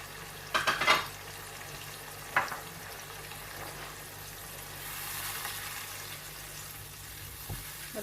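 Frozen mixed vegetables frying with yogurt, ginger-garlic paste and coriander powder over onions in a pan, a soft steady sizzle with a few scraping stir strokes early on and another midway, no talking.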